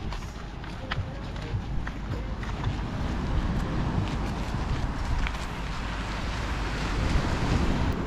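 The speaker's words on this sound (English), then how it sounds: "And this is the beach. It's kind of wavy." Surf washing onto the beach at Punta Molentis, Sardinia, a steady broadband roar of breaking waves with wind buffeting the microphone throughout, no voices.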